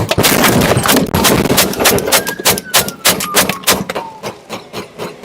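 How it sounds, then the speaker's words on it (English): Rapid gunfire during a police shootout after a vehicle chase, a dense string of loud sharp shots cracking one after another, then thinning into spaced, echoing reports. "and shots ring out, Officer Resendez fires his weapon"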